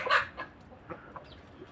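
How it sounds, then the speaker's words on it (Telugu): A native-breed rooster on a country chicken farm clucks close by, one loud cluck followed by several softer, scattered clucks in a brief burst. "చూసారా, మంచి జాతి పుంజులు కూడా మా దగ్గర ఉన్నాయి."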